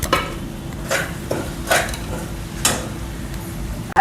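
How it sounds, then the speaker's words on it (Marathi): A spice masala for spicy mutton curry is stir-fried in oil, with a low sizzle beneath repeated scraping strokes of a spoon against the pan, each stroke distinct and fairly loud, close by. "5 मिनिटं तेल सुटेपर्यंत आपल्याला परतवून घ्यायचं आहे।"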